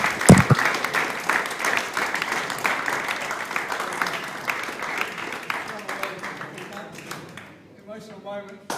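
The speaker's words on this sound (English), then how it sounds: "Let's have a round of applause for our current runner-up." An audience at a world 8-ball pool championship final gives the runner-up a round of applause, dense clapping that gradually thins and fades, with a voice speaking over it near the end.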